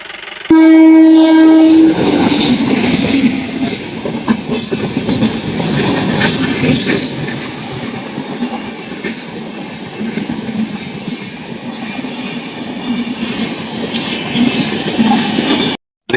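A train rolls through a railway crossing near Raigiri station, opening with a loud sustained horn blast, then steady rumbling wheels and clattering cars for the full length, close and loud, with no talking.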